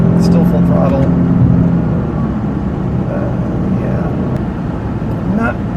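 A newer Porsche car engine held at full throttle, heard from inside the cabin as a loud, steady droning roar with low rumble throughout.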